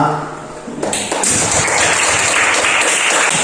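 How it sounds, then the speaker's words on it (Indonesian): Students in a classroom clap for the second group after its presentation during a school lesson. The clapping is close and fairly loud, starting after a few knocks and continuing as a steady patter. "Kita berikan tepuk tangan ulang untuk kelompok 2"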